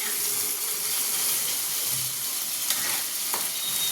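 Egg curry sizzles and fries steadily in a pan, a close, continuous crackling hiss with faint stirring scrapes and no talk.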